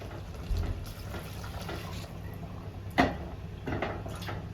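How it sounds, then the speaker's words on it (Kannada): Water is poured from a cup into uncooked rice in a cooking pot for Hyderabadi-style chicken pulao, giving a few soft splashing pours that rise briefly over a quiet, low background. "ಈಗ ಅದೇ ಕಪ್ಪಲ್ಲಿ 4 ಕಪ್ ನೀರು ಹಾಕಬೇಕು."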